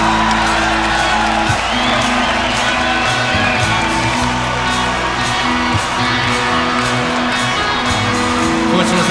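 A large audience at a live rock concert in Dom sportova, Zagreb, roaring, whooping and applauding in a dense, continuous wash of crowd noise with a low hum underneath.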